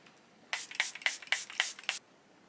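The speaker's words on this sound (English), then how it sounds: "Now that all my cream products are on, I'm gonna go in with my setting spray." Five quick hissing bursts of makeup setting spray mist, evenly spaced over about a second and a half, close and crisp in an otherwise quiet room.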